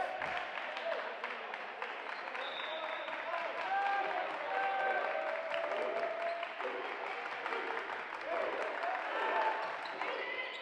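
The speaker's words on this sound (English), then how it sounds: "Crowd coming alive here in the 5th set." Gymnasium crowd at a Lawrence High boys volleyball match against Central Catholic, cheering and murmuring steadily through the fifth set, with shoe squeaks and ball thuds and a commentator talking over it.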